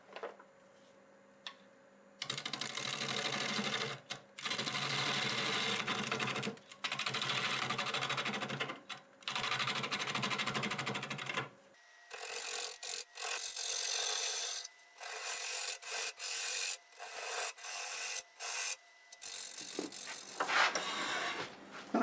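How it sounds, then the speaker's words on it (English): Wood lathe turning a Siberian elm crotch blank with a half-inch bowl gouge at about 750 RPM, loud rough scraping cuts in repeated bursts separated by short pauses, with a lighter rasping finish toward the end. "I'm going to use the 1/2 inch bowl gouge at around 750 RPM"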